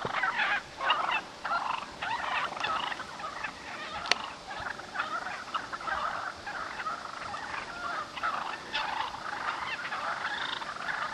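A flock of wild turkeys about fifteen yards away gobbles and clucks almost continuously, with many overlapping bird calls and a single sharp click partway through.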